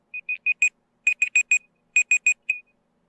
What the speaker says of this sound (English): No, I set a 20-minute timer.